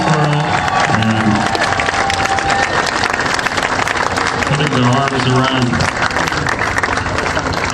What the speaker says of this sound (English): One more round of applause for the town of Pittsboro